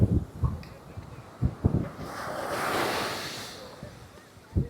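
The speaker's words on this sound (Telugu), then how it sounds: "రాత్రి అలలు చూడు ఎట్లా వస్తున్నాయి అలలు అలలు" Night surf at a Dubai beach: a soft, broad wash of ocean waves swells and fades in the middle, with scattered low thumps of wind buffeting the microphone before and after.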